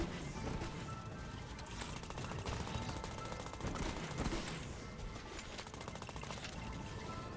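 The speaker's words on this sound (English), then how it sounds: "I hate these rocket launchers so much." Rocket launchers firing in the video game Trifox: a dense, continuous barrage of rapid blasts and crashes that stays loud and relentless throughout.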